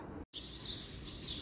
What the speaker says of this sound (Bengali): আর পাখির গুঞ্জন, পাখির ডাক আপনারা শুনতেছেন।